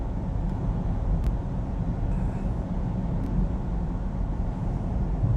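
Constant low rumbling road noise from inside a moving BYD Tang 86.4 kWh electric SUV, with a wet hiss of tyres on a wet road beneath it and a couple of faint clicks.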